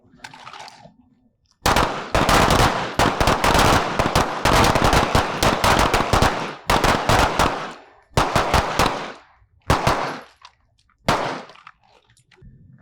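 Handgun shots fired one-handed during a shooting range malfunction-clearing drill, in loud sharp bursts and rapid strings with short pauses between groups, close by and alone.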